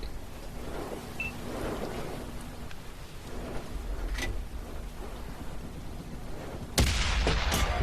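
Tank cannon fire in World of Tanks from an STA-1 medium tank: a few faint distant booms early on, then a loud, sharp blast followed by quick cracking reports near the end, over steady ambient game rumble.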